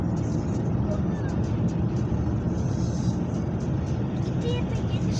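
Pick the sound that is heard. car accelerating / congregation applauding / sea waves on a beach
car accelerating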